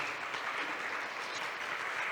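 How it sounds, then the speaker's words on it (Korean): Audience applause at a statistics workshop after a presentation, steady dense clapping filling the room at moderate loudness with no talk. "박수 부탁드립니다."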